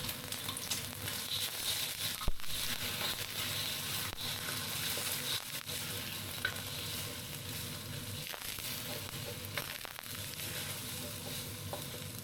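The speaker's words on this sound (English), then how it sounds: "The trick to frying eggs in an iron wok is to heat the wok first, then add the oil so the eggs do not stick." Eggs fry in hot oil in an iron wok, giving a steady close crackling sizzle that runs throughout, with occasional scrapes and stirring knocks and no voices.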